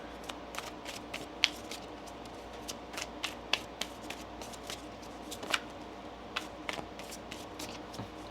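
A deck of tarot cards is shuffled by hand, giving quiet, close, irregular riffles and snaps spread across several seconds over a low room hiss.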